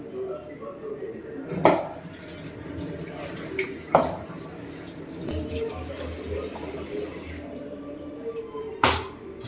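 A kitchen tap runs while cooking chicken biryani, with a steady wash of water broken by several sharp clanks of pots and utensils; faint voices murmur now and then.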